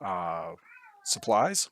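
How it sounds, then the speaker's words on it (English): A cat meows close by in a rising, drawn-out call between stretches of someone talking, its voice then overlapping with more speech. "I apologize if you can hear my cat in the background"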